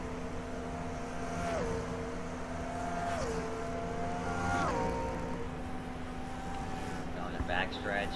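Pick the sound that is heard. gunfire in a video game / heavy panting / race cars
race cars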